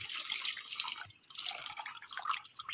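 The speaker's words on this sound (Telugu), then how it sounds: "దీన్ని ఒక 4-5 టైమ్స్ బాగా నీట్గా కడుక్కొని" Homemade butter being washed by hand in water, with continuous splashing and dripping sounds close by that pause briefly near the middle.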